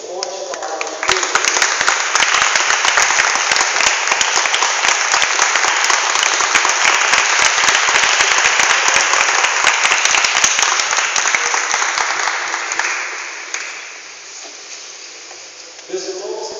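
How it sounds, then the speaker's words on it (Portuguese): A church congregation bursts into loud, sustained applause, a dense wash of clapping that holds for about twelve seconds before fading, with a voice briefly audible near the end. "Vamos aplaudir bem forte a palavra de Deus."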